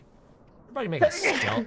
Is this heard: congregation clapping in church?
no